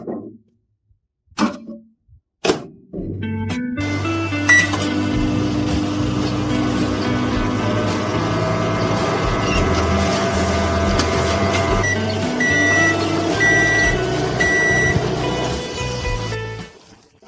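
A Samsung grill microwave oven runs with a glass of water inside, its steady, loud transformer hum and drone going for about fourteen seconds after a few clicks from the door and controls, then stopping.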